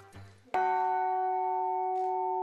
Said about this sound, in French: Une note produite par une toute nouvelle cloche de 100 kg.